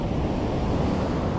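Ocean surf breaking at Playa del Socorro beach on Tenerife, a dense steady wash of waves with wind buffeting the microphone, close and loud, no voices.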